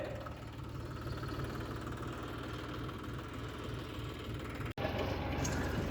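A tractor engine runs steadily at night during fertilizer hauling on a farm, a loud, close, continuous low rumble with a brief dropout near the end.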